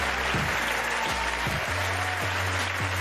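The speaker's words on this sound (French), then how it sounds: "Je vous demande de faire un tonnerre d'applaudissements à Anne." Audience applause at a magic and mentalism awards ceremony, a steady wash of clapping heard alongside a low, droning harmonic tone.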